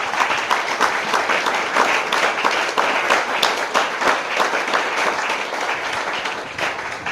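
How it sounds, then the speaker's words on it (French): Church congregation applauding and cheering steadily throughout, a dense wash of many hands clapping at close range with no pauses. "Est-ce qu'on peut acclamer le Seigneur?"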